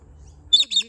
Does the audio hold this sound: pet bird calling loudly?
yes